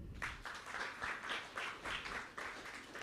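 Faint rhythmic clapping from a youth seminar audience in a church, a short burst of applause heard at a distance.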